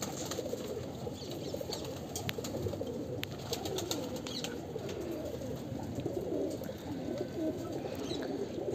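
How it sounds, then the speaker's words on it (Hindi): Soft, low cooing from several paired pigeons runs steadily throughout, with a busy murmur of birds close by and occasional faint higher chirps. "सब जोड़ वाले कबूतर है,"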